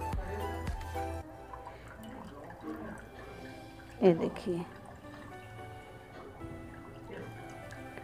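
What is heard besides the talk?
water dripping while squeezing chhena in cloth for rasmalai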